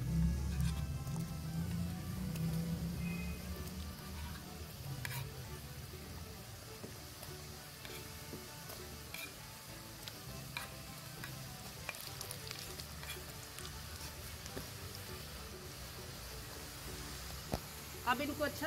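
Namak pare frying in hot oil, a continuous soft bubbling sizzle with occasional stirring scrapes, steady and moderately quiet across the whole stretch.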